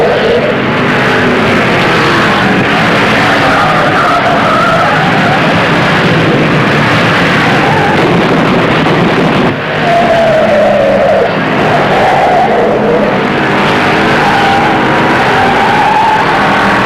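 Stock cars roar around the track at the 1958 Southern 500, a loud, continuous engine drone with tire skids and a crowd murmuring beneath, steady throughout with a brief dip midway.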